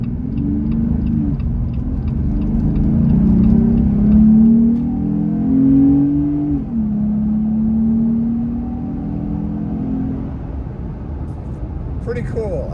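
Jeep Gladiator fitted with a cold air intake accelerating on the road, its engine note rising steadily, dipping briefly mid-pull, then climbing again before easing off, heard loud and close from inside the cab.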